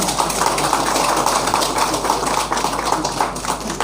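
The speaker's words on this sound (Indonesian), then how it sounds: "Tepuk tangan dulu." Audience at a Hindu community gathering by the Suwoh crater applauds in a dense, steady burst of clapping that fills the whole stretch, with no talk on top.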